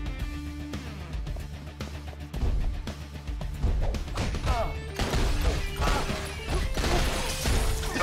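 Glass smashes in the Mr. Shifty video game, with sharp crashing impacts breaking over game music and busy clatter that grows louder partway through.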